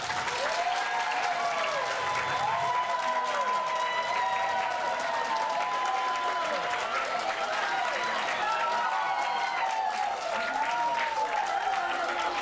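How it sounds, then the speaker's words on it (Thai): Sustained audience applause from a crowd at a community leaders' event in Thailand, steady and dense clapping that fills the whole stretch at an even level, with faint voices and cheers mixed underneath. "ปรบมือครับ"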